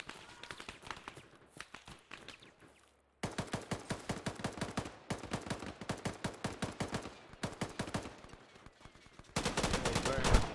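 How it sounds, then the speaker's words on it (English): Rifle and machine-gun fire during a live-fire mechanised infantry combat drill near a two-story barn, with repeated rapid bursts and single cracks, some close and loud, and a sustained volley near the end. "He's very much shooting at us."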